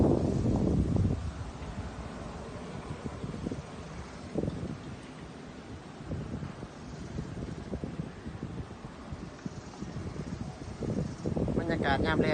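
Strong wind gusts buffet the microphone outdoors on the Mekong riverside at Pakse in southern Laos, a steady rushing roar with louder bursts at the start and end while someone talks over it.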